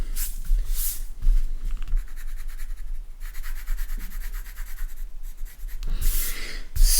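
A pencil scratches and rubs across paper while shading a highlight area, making steady, close scribbling strokes with brief pauses and sharper accents.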